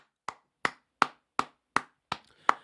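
A single person clapping slowly and steadily, seven sharp, evenly spaced claps, close and alone with silence between them.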